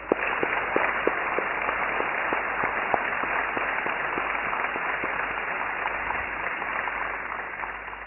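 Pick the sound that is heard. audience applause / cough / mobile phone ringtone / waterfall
audience applause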